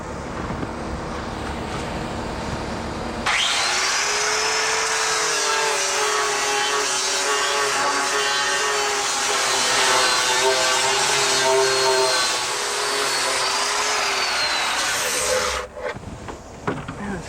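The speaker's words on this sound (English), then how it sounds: "We got to hand grind these corners a little bit." A grinder works the corners of a fiberglass boat transom during an epoxy repair. A loud, close, continuous whine with grinding texture runs about twelve seconds and stops abruptly, with quieter background noise before and after.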